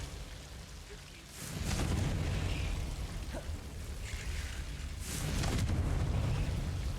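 Confringo fire spell blasts in the Hogwarts Legacy video game, two broad booming whooshes around 1.5 and 5 seconds rolling into sustained rumble, with a little background activity between them.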